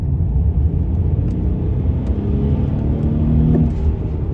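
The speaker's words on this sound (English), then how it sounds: "And then you put this car over into sport mode, and this thing's an absolute beast on the road." A 2014 BMW 528i driving in sport mode, a steady loud engine rumble and road roar from inside the cabin with a slight rise in pitch near the end, no talk.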